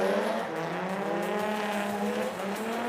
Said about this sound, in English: And a good drag race down.